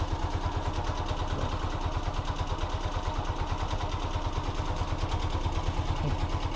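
Honda TMX 125 Alpha motorcycle engine idling after a push start, a steady low chugging pulse with even rhythm, moderately close and alone without voices.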